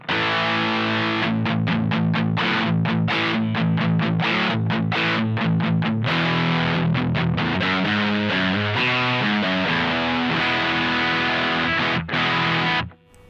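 Tight, crunchy overdriven electric guitar through a Menatone King amp set toward a 90s tone, loud and continuous with choppy staccato chords and palm-muted bursts, ending in a short held chord.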